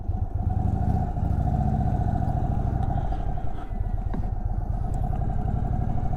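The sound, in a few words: Indian Sport Chief motorcycle riding down the road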